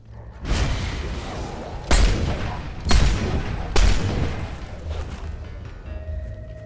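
Three or four heavy booming video game gunshots from Fable III ring out about a second apart, each with a long rumbling decay, loud and close, with no voices over them.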